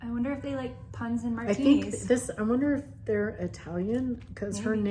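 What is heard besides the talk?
No distinct noise like a dog, phone or traffic.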